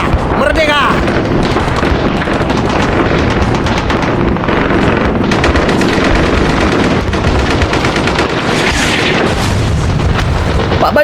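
Staged battle sound effects for a colossal carnival drama about Dutch military combat: dense, continuous machine-gun bursts and booming explosions fill the whole stretch at high volume, with shouted voices mixed in.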